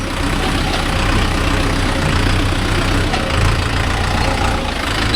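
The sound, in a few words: Mahindra Yuvo Tech Plus 585 4WD tractor engine running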